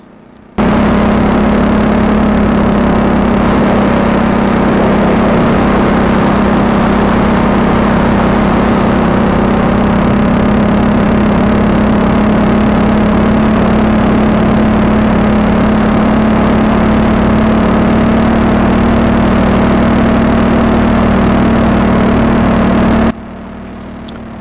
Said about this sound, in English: you can tell that my RPMs are pretty low, and it doesn't take much for the engine to have enough power to keep me cruising